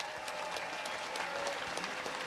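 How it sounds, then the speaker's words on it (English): Applause from a small audience at a talk with a millionaire, quiet and somewhat distant, with scattered individual claps standing out over a soft wash of clapping. "give him a round of applause."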